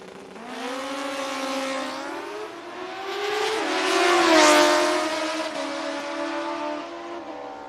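Drag racing motorcycles rev hard and launch from the starting line at a sportsman event, their engine notes rising in steady harmonic sweeps, then surging louder near the middle before pulling away, with no talk over the roar.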